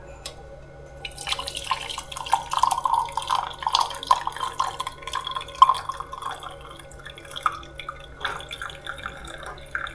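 Boiled leaf tea is poured through a strainer to catch the leaves, giving a soft trickle and irregular drips that run for several seconds at close range, with faint background hum.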